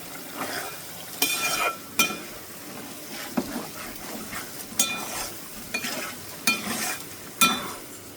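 Chicken fry sizzles in a pan while a utensil stirs it, scraping and clinking against the metal in repeated bursts over a continuous frying hiss.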